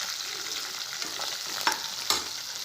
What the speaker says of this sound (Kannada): ಕೊತ್ತಂಬರಿ ಕೂಡ ಚೆನ್ನಾಗಿ ಫ್ರೈ ಮಾಡಬೇಕು.